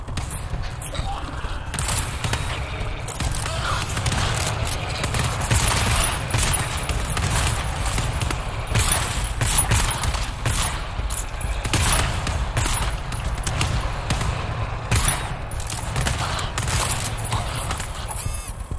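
Gunfire rattles almost without a break through a GTFO level, dense and loud, over heavy low rumble and chaotic game sounds, with some voices mixed in.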